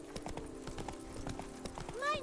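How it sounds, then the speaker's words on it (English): Rapid, rhythmic horse hooves galloping in The Witcher 3, a steady clip-clop over a low game soundtrack, ending with a short whinny. "Even a horse drops if you ride it at a constant gallop"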